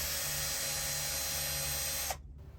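A power drill pre-drilling a pilot hole in wood during RV repairs whines steadily and loudly at close range, then cuts off abruptly near the end.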